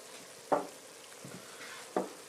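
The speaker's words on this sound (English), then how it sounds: "Let's give that a stir." A spoon stirs a reduced soup or stew in a pot, two distinct scraping knocks against the pot a second and a half apart over a faint, steady sizzle.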